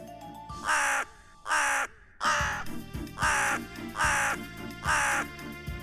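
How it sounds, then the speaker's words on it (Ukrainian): A crow caws six times, each call loud, harsh and evenly spaced, over a light musical backing. "А це голос ворони."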